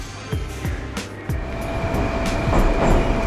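A blue and white Tashkent metro train passes through a station, with rhythmic clacking of wheels over rail joints and a loud, rising rumble of the carriages, no voices.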